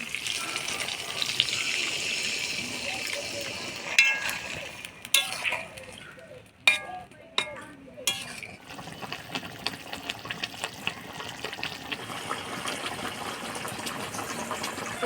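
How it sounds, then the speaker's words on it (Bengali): Water is poured into a simmering curry of eggplant and goat meat with a steady splashing gush, broken by a few clinks and stirring knocks partway through. "এবার অল্প জল দিয়ে দিব।"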